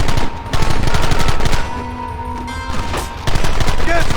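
Rapid bursts of gunfire rattle through a Red Dead Redemption gunfight, loud and close, with rapid-fire volleys broken by short pauses and a few sharper single shots, while voices shout over the shooting.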